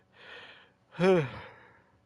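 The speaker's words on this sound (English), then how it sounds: "I'm yawning today" A person yawns once nearby: a soft breathy inhale, a short pause, then a louder voiced, falling exhale, with no words.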